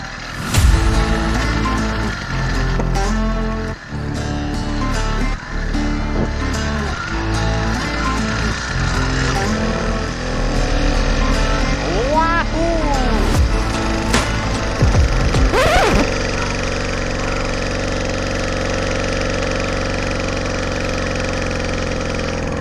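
A homemade gas-powered bicycle engine putters loudly and unevenly, with several rising and falling revs before it settles back to a rough idle.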